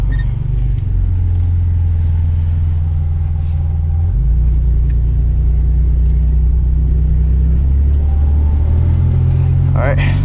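A 2004 Nissan Xterra on a test drive after inner and outer tie rod replacement gives a steady low engine and road rumble from inside the cabin, with the pitch shifting as it moves.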